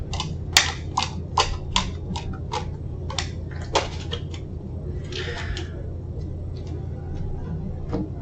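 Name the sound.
tarot cards being handled and drawn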